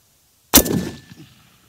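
A rifle bullet striking a steel target plate at long range, a single sharp metallic clang with a short ringing tail after a moment of silence, heard alone.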